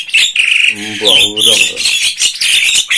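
Starlings calling and squawking in a busy breeding aviary, dense overlapping shrill chirps and whistles close by, with someone speaking over them partway through.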